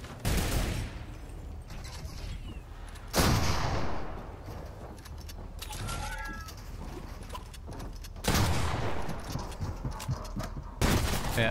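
Fortnite gameplay, with bursts of gunfire and bangs rising over a noisy game soundscape, several loud volleys spaced a few seconds apart.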